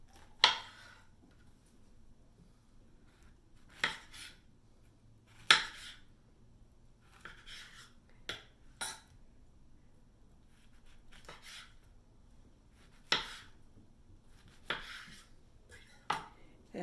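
A knife chops apple into wedges on a cutting board, giving about a dozen sharp, separate knocks spaced irregularly a second or more apart against a quiet room.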